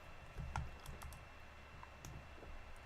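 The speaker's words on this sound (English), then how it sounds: "so we've got to double click in here" Computer mouse clicking and a few keyboard taps during AutoCAD drafting work, a handful of faint, sparse clicks against a quiet room hiss.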